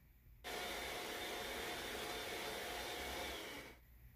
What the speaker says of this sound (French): Je mélange encore avec le batteur électrique jusqu'à ce que le mélange soit bien crémeux et homogène